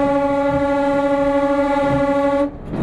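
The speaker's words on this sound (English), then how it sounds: "Give the lads a good blast on the horn." Locomotive horn on a diesel train with a fluid flywheel, coasting in fourth gear: one loud, steady sustained blast with strong harmonics, held for about two and a half seconds before cutting off abruptly.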